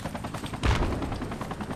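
Gunfire in the video game BF2 Project Reality: a rapid burst of shots with one heavier, louder report near the middle, set back at moderate distance in a short clip.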